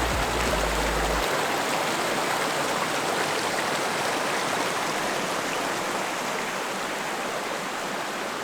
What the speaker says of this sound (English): Alright, so we went over the creek now